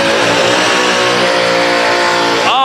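Race car at Stafford Speedway doing a burnout in a burnout competition, a loud sustained high-revving engine roar with screaming tire spin, steady and close, rising in pitch at the very end.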